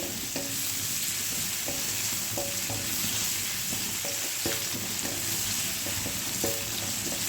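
An onion stirred and fried in a hot pan for a Bengali kofta curry gives a steady close sizzle, with light spatula scrapes repeating through the pan.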